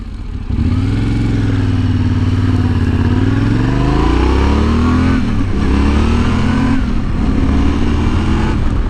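A Yamaha Tenere 700 motorcycle engine revs up and climbs in pitch, then surges again in loud repeated throttle blips, close by with no talking.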